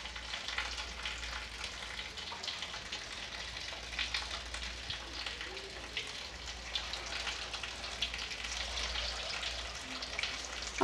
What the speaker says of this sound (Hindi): फ्राई कर लेंगे।